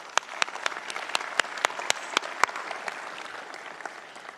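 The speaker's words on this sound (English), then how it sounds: "I think we should give them a round of applause as well" Audience applause at a James Cook University Brisbane graduation ceremony in an auditorium, a steady wash of many hands with a few sharp nearby claps standing out, fading slightly toward the end.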